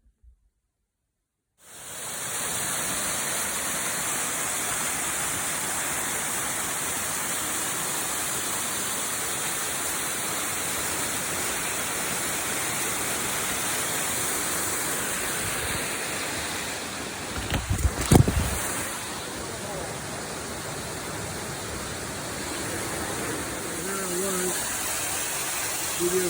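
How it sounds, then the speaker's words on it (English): Steady roaring rush of a waterfall near Snoqualmie Pass, broadband and continuous throughout, with a short burst of wind buffeting the microphone midway. "Videotaping the waterfall, swinging over here, filming"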